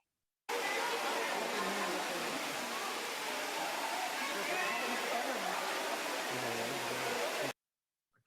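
Water rushes continuously and evenly, with a dense broadband hiss that starts abruptly and stops abruptly, like a steady stream or waterfall.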